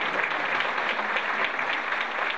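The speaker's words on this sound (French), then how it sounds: "Lorsque les musiciens montent sur scène, ils sont accueillis par une pluie d'applaudissements" Applause from a concert audience greeting musicians as they come on stage at a festival in Algeria, a steady, fairly distant patter of many hands clapping throughout.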